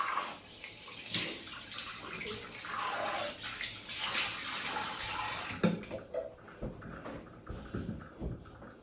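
Water splashing and running as a face is rinsed after shaving, a steady close wash with brief splashes fading toward the end, no talk.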